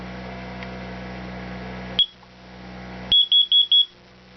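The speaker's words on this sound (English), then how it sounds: "So that's the carbon monoxide alarm." A short electronic beep sounds once, then after a pause four quick high-pitched alarm beeps follow in an even rhythm, close and clear.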